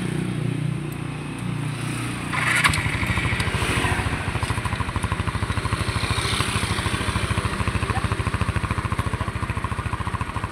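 A Rusi Passion 125 motorcycle, just fitted with a replacement starter motor, starts and settles into a steady, rapid single-cylinder idle putt close by, running alone for several seconds.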